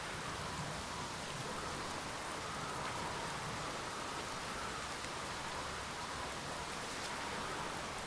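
Rain falling in a video game, a steady soft hiss of even patter that continues without a break at low volume, with no voices.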